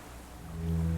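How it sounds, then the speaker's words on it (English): Distant cargo ship signal horns sound low and drawn-out across the water in Disco Elysium, a deep sustained tone swelling from faint to fuller within a second, with no talk. "The distant sound of cargo ships' signal horns echo on the water."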